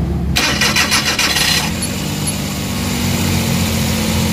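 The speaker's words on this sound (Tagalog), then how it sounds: "So gagawin natin, i-on natin ng isa natin makina" A Suzuki mini van's K6A engine, which has a vibration fault, cranks with a rapid starter whir for about a second, then catches and settles into a steady, fairly loud idle.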